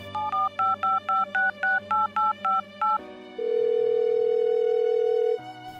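A telephone is dialed with a quick run of about ten short, evenly spaced keypad tones, followed by a long steady ringing or dial tone and a brief click, clear and close with no talking.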